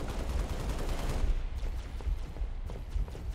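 Gunfire from the Xbox 360 game Halo Reach played in legendary co-op mode, a dense, continuous rattle of shots with rapid bursts, fairly loud and unbroken, with no talk over it.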